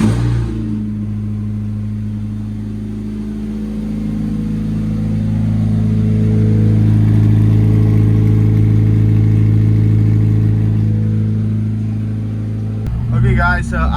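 A Honda Civic drives with its engine running steadily. The low hum stays loud and close inside the car, swells and eases slightly, and ends with a brief rustle.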